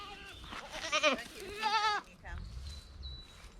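Goats in a garden bleat in two long, wavering cries close by, followed by a shorter call, with faint background noise and a thin high tone near the end.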